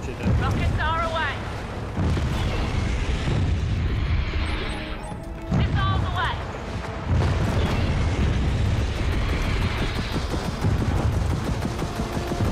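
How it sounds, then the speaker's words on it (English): Rockets firing and detonating in Gears of War 4, a run of heavy booming explosions layered with gunfire and debris crashes, loud and continuous, with someone talking over the chaos. "Rockets are away."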